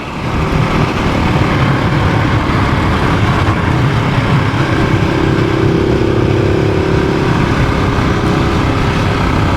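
A dual sport 700 motorcycle rides a dusty forestry road in the Canadian Rockies, its engine a loud, steady drone close by that holds throughout with small shifts in pitch and no voices.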